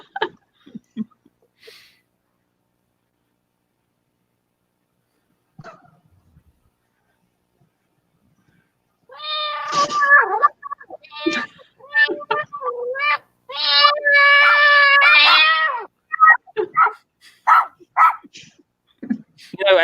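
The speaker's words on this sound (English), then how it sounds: "Adam, when you play that, it sounds like you've got a female cat that's in heat and you're scratching the top of her tail." A played sound effect with yowling, whining tones like a cat in heat, loud and close in wavering bursts after scattered faint noises, with short yelps and chirps between them.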